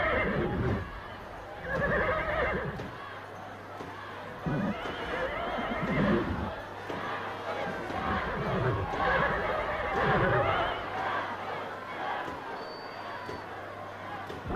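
Belgian horses neigh repeatedly during an outdoor team games contest, with loud, drawn-out whinnies rising and falling over a busy crowd murmur and faint hoof clatter.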